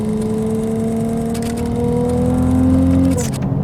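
Revving of the twin-turbo hybrid V6 in a 2023 Ferrari 296 GTB during a winter drive, a loud steady engine tone climbing in pitch, close and continuous with no talk.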